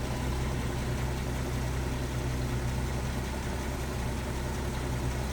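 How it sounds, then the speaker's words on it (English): A steady, smooth 1941 Chevrolet 216 cubic-inch six-cylinder engine with a 6-volt system idling up close, a continuous low rumble with no voices. "And yes, that engine is running."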